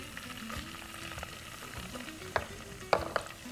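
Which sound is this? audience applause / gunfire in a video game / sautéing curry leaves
sautéing curry leaves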